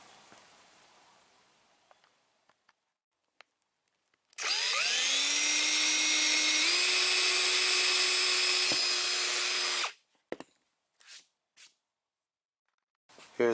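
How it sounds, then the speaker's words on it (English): A power router countersinks a fiberglass car door panel for speaker pods, whining loudly and steadily for about five seconds with a rising pitch, framed by quiet handling clicks and taps before and after. "So I'm gonna take my router and countersink this here."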